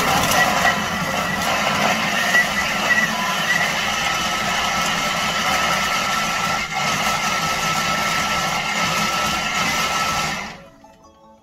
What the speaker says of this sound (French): Là, on va hacher tout ça. 10 secondes, vitesse 7.